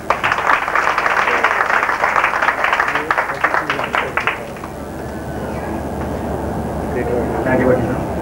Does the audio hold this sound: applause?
yes